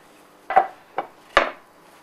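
Three sharp knocks and clatters as potatoes dusted with flour are shaken around in a metal pan, close by, with quiet gaps between them.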